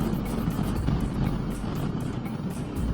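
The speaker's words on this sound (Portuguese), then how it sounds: "o motor, para além de uma sonoridade muito interessante, grave" A Yamaha Ténéré 700 adventure motorcycle engine runs with a deep, steady, low rumble that stays constant throughout, close and fairly loud.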